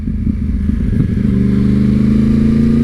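A litre-class sport motorcycle, a Honda CBR 1000RR or a Yamaha R1, sits close by, idling roughly and then climbing into a steady, higher-pitched rev that holds to the end.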